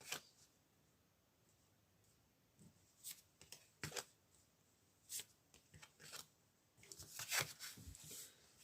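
Tarot cards being shuffled by hand, quiet close riffles and soft slaps in irregular bursts with pauses, growing busier toward the end, no voices.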